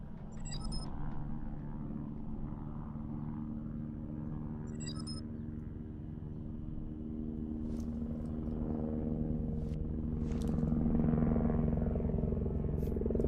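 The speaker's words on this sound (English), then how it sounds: "So yeah, that's a helicopter." A helicopter passing over a city, heard as a continuous low rumbling drone with a faint rhythmic throb that swells slightly toward the end, with a few distant clinks over it.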